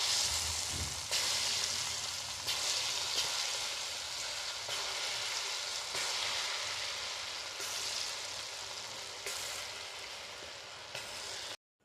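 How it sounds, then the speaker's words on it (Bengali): Lentil pakoras fry in hot oil in a kadai on a gas stove, giving a dense, even sizzle that crackles on and off for several seconds before cutting off abruptly. It is heard up close, with no speech. "তেলটা গরম হয়ে গেছে, পকোড়াগুলো আস্তে আস্তে ছেড়ে দেবো।"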